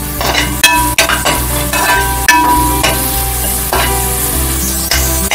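Ginger garlic paste sautéing with onions in a pan for mint rice: a loud, steady sizzle, broken by repeated scrapes and metallic clinks as a spoon stirs.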